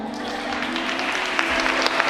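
Wedding guests applaud during the bouquet proposal at a wedding ceremony as the groom hands the bride her bouquet: a steady, moderately loud wash of clapping that continues throughout the clip.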